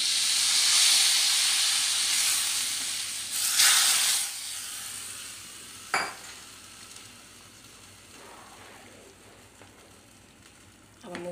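A tadka of butter, red chili and garam masala sizzles over dal makhani, a loud, steady frying hiss that swells with a few sharp pops and clinks of stirring, with no talk.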